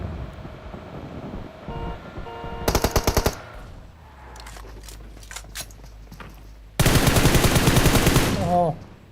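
Automatic weapon fire in PUBG Mobile, two loud rapid bursts with scattered lighter shots between them and background game ambience.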